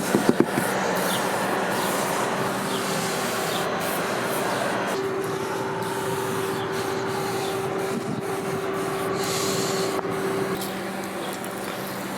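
Rubber seal conditioner is sprayed and worked onto the slide-out seals of a Rockwood Geo Pro 19FBS travel trailer, a steady hissing, rubbing texture that runs continuously at close range with a few faint clicks.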